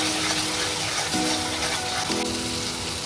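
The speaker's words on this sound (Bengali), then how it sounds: "দিয়ে ভালো করে মশলাটাকে কষিয়ে নিচ্ছি।" Salted spice paste sizzling in a pan while being worked for a Bengali malai pabda fish curry, a close steady crackle with faint tonal scrape strokes from stirring and no voices.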